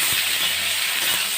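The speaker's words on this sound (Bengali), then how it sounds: "আলুর সঙ্গে পুরুলটা বেশ আর কিছুক্ষণ ভালো করে ভেজে নেব।" Potato and pointed gourd (purul) frying together in a pan, giving a steady, close, hissing sizzle that holds evenly for a moment.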